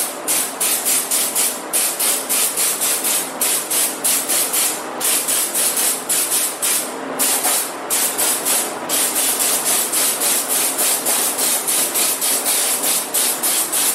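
A spray gun lays a wet coat of matte black vinyl paint onto the plastics of a Honda XRE 300, giving a continuous close hiss that pulses in quick regular passes for the whole stretch.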